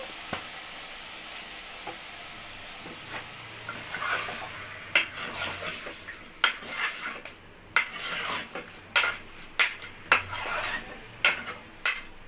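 Chicken seasoned with salt and turmeric fries in a pan, a soft steady sizzle joined by repeated sharp scrapes and clinks of a spoon stirring against the metal, growing busier toward the end.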